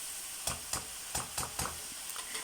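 Tomatoes and green chillies sautéing in a pan for chicken kali mirch karahi gravy: a steady hiss of frying cut by a run of evenly spaced stirring scrapes, about three per second, close and fairly quiet, with no talking.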